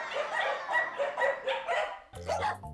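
Several dogs bark and yip in quick overlapping bursts, loud and close, with rapid uneven rhythm.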